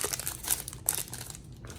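Close, crinkly plastic wrapper sounds with a few sharp snips as scissors cut open a 2000 Topps baseball card pack, brief and fairly quiet.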